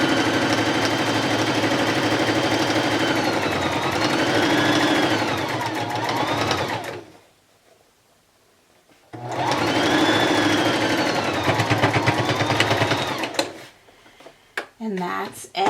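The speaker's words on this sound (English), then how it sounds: "We're going to start off and then back stitch. Do a straight stitch all the way down." Sewing machine running a straight stitch along a headwrap, a loud steady whirring hum in two long runs split by a pause, with a few small clicks and handling noises at the end.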